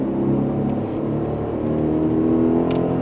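A loud Aston Martin Vantage F1 Edition engine drones steadily on a racetrack with rising harmonic tones, as if accelerating up through the revs, close and continuous without pause.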